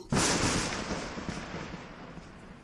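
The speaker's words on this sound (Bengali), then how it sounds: "খুব কাছের মাঠের উপর বাজ পড়ল" A thunderbolt striking a field very close by, as a sound effect in a spoken ghost story: a sudden sharp crack followed by a rumbling roar that slowly fades over a couple of seconds, heard alone.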